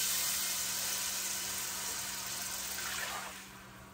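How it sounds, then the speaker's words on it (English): Chicken broth pours into a hot pan of rice with a soft hissing sizzle that gradually fades toward the end. "Nice little sizzle into nothing."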